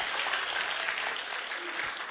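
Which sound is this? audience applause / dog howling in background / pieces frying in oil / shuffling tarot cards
audience applause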